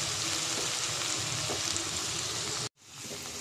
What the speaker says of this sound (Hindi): तो इसको मैं अच्छी तरह से लहसुन और ऑयल में जो है वो अच्छी तरह से इसे फ्राई कर लूँगी